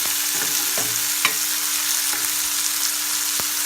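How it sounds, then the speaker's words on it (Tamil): Dried red chillies and curry leaves sauté in a pan for rasam with a constant bright sizzle, broken by several clinks and scrapes of a spoon stirring the pan. "வரமிளகாய், கருவேப்பிலை எல்லாம் சேர்த்து ஆட் பண்ணிக்கலாம். இப்போ நல்லா வதக்கிடுங்க."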